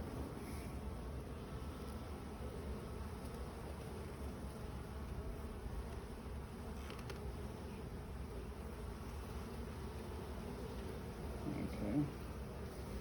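Worker honey bees buzz around an opened hive frame, a constant low droning hum close by that holds steady throughout, with a slight bump near the end.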